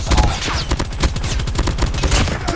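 Distant gunshots in a shooter video game: a rapid, dense burst of repeated cracks and thuds, loud and continuous over a couple of seconds, with no talk.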